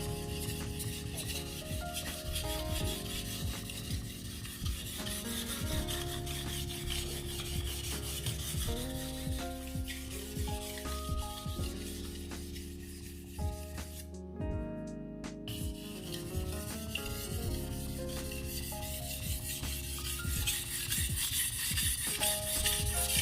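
A steady rasping scrape of a knife being sharpened, with repeated strokes across the blade running continuously at close range, with no voices over it.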